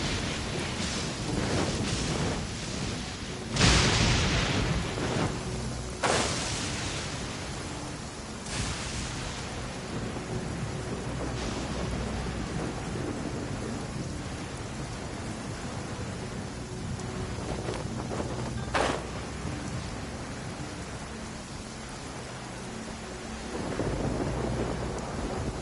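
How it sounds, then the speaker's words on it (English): Steady heavy rain pours throughout, broken by several loud thunder cracks and rumbles, one big crash early and others spaced across the stretch, with no voices. "It's raining again?"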